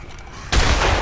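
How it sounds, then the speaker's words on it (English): A shotgun blast in the zombie game Dead Island lands about halfway in, a sudden loud broadband boom whose roar and rumble carry through to the end, after a quieter stretch of game ambience. "This is a shotgun."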